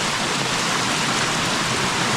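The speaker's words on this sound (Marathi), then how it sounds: "आता पण जबरदस्त पाऊस चालू आहे बघा" Heavy monsoon rain in Konkan, India, pours steadily, a dense, continuous hiss of drops with no pauses and no voices.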